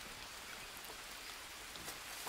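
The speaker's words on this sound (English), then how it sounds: "But it's clearly raining." Steady rain falls in the survival video game Green Hell, a constant soft hiss of drops with occasional brighter patters, continuous and even throughout with no talking.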